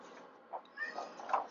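A house cat meows a few times close by, short mid-pitched calls over a quiet room with electronics repair work underway on an Atari 800XL computer.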